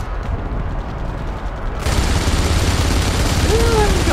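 Sustained machine gun fire in the video game Enemy Front, a dense roar of rapid shots that jumps louder and brighter partway through, with a rising whine near the end.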